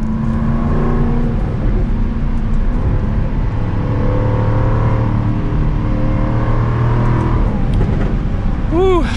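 A 2022 Jaguar F-Type R AWD convertible in sport mode with the exhaust open, its engine droning loud and close while driving, ending in a few sharp exhaust pops crackling near the close; a voice talks over parts of it.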